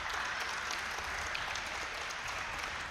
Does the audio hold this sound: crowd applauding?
yes